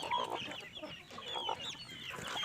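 Free-range chickens and ducks on a small home farm cluck steadily at close range, with several birds overlapping in a busy, continuous chatter and no talking.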